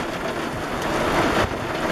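Heavy rain from a thunderstorm pours steadily and loudly around a person outdoors near a creek while kayaking, a dense unbroken roar with no talking.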